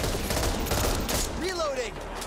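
Rapid gunfire in the co-op zombie shooter Back 4 Blood, a loud stream of shots with a rising whistle-like sweep partway through and a voice briefly heard beneath the noise.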